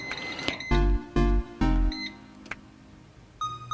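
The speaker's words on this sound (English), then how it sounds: "let's preheat the air fryer for 3 minutes under" An air fryer being set to preheat at 370 Fahrenheit gives a string of short electronic beeps and button clicks, three longer tones in the middle and a few lighter chirps around them, close and fairly quiet.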